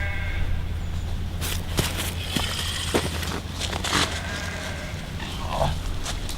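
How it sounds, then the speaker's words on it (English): Sheep grazing near a lakeside carp-fishing spot in autumn let out a few soft bleats at a middle distance over faint outdoor ambience, with the clearest call coming near the end. "sheep central here at the moment"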